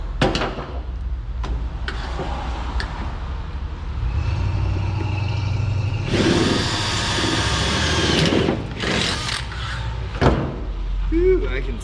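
A power drill bores out spot welds on a car body, its whine rising loud and sustained in the middle stretch after softer scraping and handling noises, with someone talking around it.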